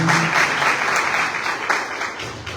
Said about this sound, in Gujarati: એકવાર જોરદાર તાળીઓથી આપણે એમને વધાવીએ.